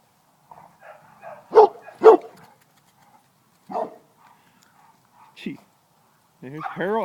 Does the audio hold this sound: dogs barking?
yes